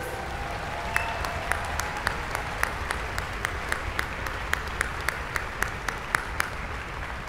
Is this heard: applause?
yes